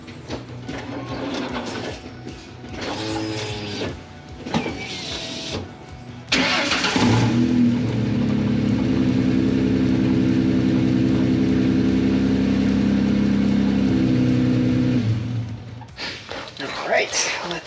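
A 2003 Ford Mustang being cranked after a fuel pump replacement: a voice speaks over workshop sounds, then the engine catches around six seconds in and runs at a steady, loud idle before dropping back off near the end.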